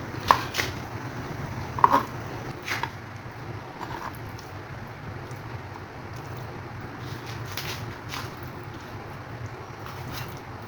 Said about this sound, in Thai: หั่นเนื้อเสร็จแล้ว มาหั่นหนังต่อนะครับ